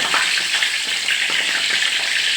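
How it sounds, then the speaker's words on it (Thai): Mackerel fries in a pan with hot oil, a loud, dense, hissing sizzle that holds steady and crackles close by without pause. "มาทอดปลาทูกันค่ะ"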